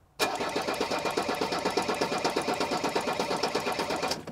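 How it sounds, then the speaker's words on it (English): A diesel engine cranks over steadily on the starter during a compression test, giving a rapid, even chugging rhythm at close range that runs for about four seconds and then stops abruptly. "So let's go ahead and crank it, Jerson."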